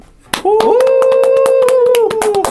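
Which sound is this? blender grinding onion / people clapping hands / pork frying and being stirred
people clapping hands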